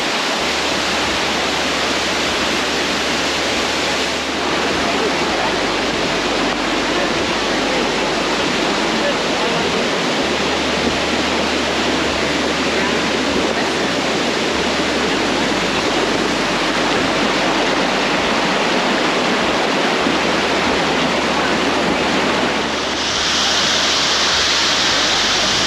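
Bridal Veil Falls on a Pacific Northwest hike roars as a steady, loud broadband rush of falling water, continuous and unbroken throughout, with a faint low hum beneath and no talking.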